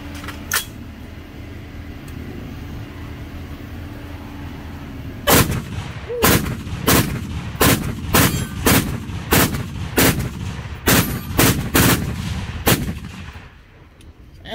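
A rifle fitted with a Rare Breed FRT trigger fires about a dozen loud, sharp shots at a fast, slightly uneven rhythm after several seconds of quiet outdoor background.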